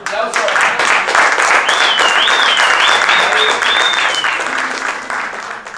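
Audience applause at an AeroPress coffee-brewing championship: dense, steady clapping that fills about five seconds before tapering off, with crowd voices and a few whistles mixed in.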